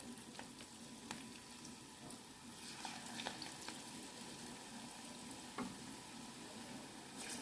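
Pakoras for kadhi sizzling and frying in hot oil in a home kitchen, a steady crackling hiss with occasional sharper pops and stirring clinks, fairly quiet and with no talking.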